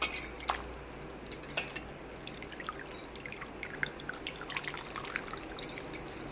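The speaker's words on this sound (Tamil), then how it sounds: "ஒரு தாட்டிக்கு 2 தாட்டி நல்லா அலசிக்கலாம்." Thuthi keerai greens are rinsed in water, with faint, close drips, trickles and light splashes continuing irregularly throughout.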